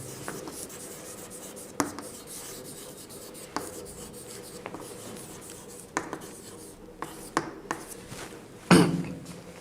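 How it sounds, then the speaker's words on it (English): Writing on a classroom board during an English grammar lesson: irregular scratchy strokes and sharp taps, close, with a firmer knock near the end and faint room noise underneath. "I will write on the board"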